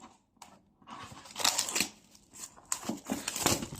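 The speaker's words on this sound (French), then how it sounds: "On va déjà déballer le contenu du paquet." A Teclast P40HD tablet box is unpacked with soft crinkling and rustling of packaging, a few brief scrapes and rips in quiet, close, irregular bursts.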